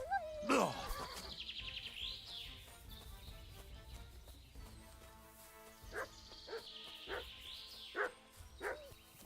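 Dog in the medieval video game Kingdom Come Deliverance 2 gives a few sharp barks and yelps, then whimpers, scattered and moderately near over quiet game ambience.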